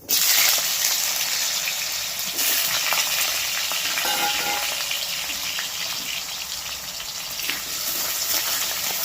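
Thin, long-cut potato strips hit hot oil, bursting into a loud, close, vigorous sizzle that stays steady and bubbling throughout.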